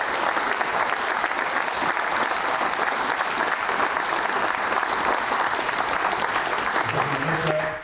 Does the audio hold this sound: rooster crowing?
no